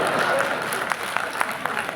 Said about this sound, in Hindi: एक बार मन से तालियां बजाओ।